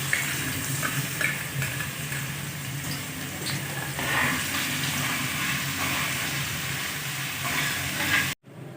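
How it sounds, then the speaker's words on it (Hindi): Garlic ginger paste frying in hot oil with potatoes in a pan, a continuous close sizzle with scattered crackles and spatter, ending abruptly. "अभी जी डालते हैं लहसुन अदरक का पेस्ट"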